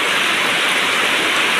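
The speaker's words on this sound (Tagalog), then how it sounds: "Ang lakas ng ulan." Heavy rain pours down in a dense, loud, unbroken hiss that fills the whole moment.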